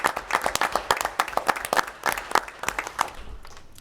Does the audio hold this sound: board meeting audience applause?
yes